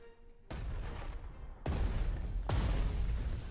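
Three heavy booms of artillery and gunfire from the Panzer Strategy war game land about a second apart, each loud, sudden and followed by a rumbling tail, with no talking over them.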